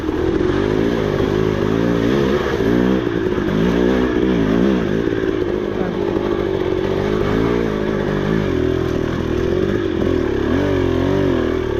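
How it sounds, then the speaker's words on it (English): Dirt bike engine revving and labouring steadily up a rough trail in a hard enduro event, close and loud throughout, with clatter and scraping from rocks under the tyres. "Oh man, this bike is so cool. Just walks through that stuff."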